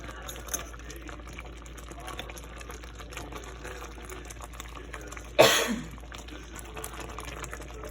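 Thick peanut patty candy mixture boiling hard in a pot on the stove, with a low bubbling hiss throughout and one sudden loud pop or splatter midway before it settles back.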